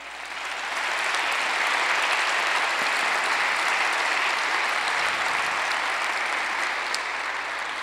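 A church congregation bursts into sustained applause for the Lord, a dense, steady wash of many hands clapping that swells in quickly and holds at full strength throughout, with no talking over it.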